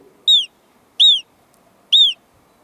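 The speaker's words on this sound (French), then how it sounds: "ce que fait la marmotte pour dire à ses amis de se cacher tout de suite dans le terrier quand il y a un danger? Elle siffle" An alpine marmot gives its alarm call: three sharp, high, downward-sliding whistles at steady, evenly spaced intervals, clear and fairly close over a faint, quiet background.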